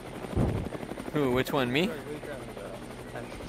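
Whirring rotor drone of a helicopter in a video game, a steady mid-level hum running throughout while someone speaks briefly over it.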